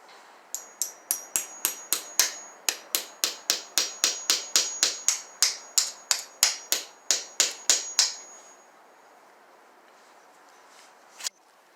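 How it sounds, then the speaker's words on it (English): A nail being tapped into the center of a wooden dowel gives a quick, even run of about twenty-five sharp, close taps lasting several seconds, followed by a pause and one last isolated tap. "I start by center tapping the middle of the dowel with a nail to make a little hole"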